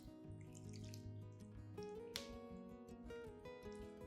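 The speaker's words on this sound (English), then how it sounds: "I'll water the aloe vera and vitamin B1 solution directly onto the base to evenly moisten the surrounding medium" An aloe vera and vitamin B1 solution poured onto the base of an orchid to moisten its potting medium, giving faint close trickling and dripping water with small splashes.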